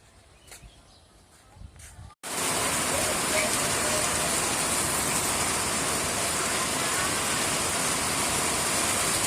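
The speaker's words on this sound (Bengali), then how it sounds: "কি পরিমাণ বৃষ্টি চলতেছে, প্রচুর পরিমাণ বৃষ্টি" Heavy rain falling on an open field becomes a dense, loud, steady hiss after a quieter opening with faint voices, continuing without break to the end.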